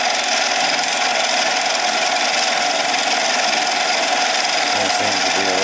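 A lathe takes a 4-thousandths cut in 1144 steel, a loud, steady machining whine and hiss that runs continuously with a slight shift near the end, and no voices.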